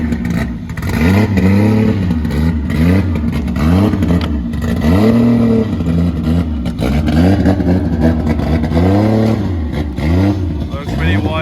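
An S14.9 drift car on its first test drive, its engine revving in repeated rising and falling sweeps, loud and close throughout, with some clatter and voices underneath.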